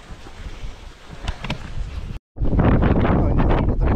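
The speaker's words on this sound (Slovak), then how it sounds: "Oj, ale fúka." Wind gusts loudly across the microphone at a rocky lakeshore during fossil hunting, a rushing roar that cuts out briefly and then returns even stronger.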